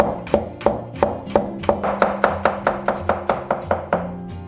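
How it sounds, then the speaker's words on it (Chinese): Knife chopping shallots into rings on a board, a steady run of about fourteen sharp, close chops, evenly paced and fairly loud, with no talk. "准备一些红葱头，对半切开，然后切圈"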